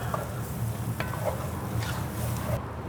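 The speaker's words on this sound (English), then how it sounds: "So I'm going to add 3 tablespoons of butter here, and we'll stir that in to melt." Three tablespoons of butter sizzle in a hot skillet set on an outdoor grill while a utensil stirs it, giving a steady close fry with soft scraping taps throughout.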